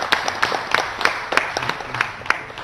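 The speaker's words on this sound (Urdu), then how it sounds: "تو آپ بھی اپنے لیے تالیاں بجائیں" Studio audience clapping for a quiz team on a televised Independence Day quiz show, a brief burst of scattered, moderately loud handclaps with no talk.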